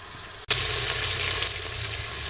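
Chili verde meat browns in an Instant Pot, a steady loud sizzle that starts abruptly and holds throughout with faint crackles, no talking.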